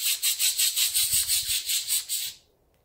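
A voice imitates the buzzing love song of a male cicada, a loud, close, rapidly pulsing hiss of about a dozen rhythmic beats that stops abruptly after two seconds, with nothing else heard.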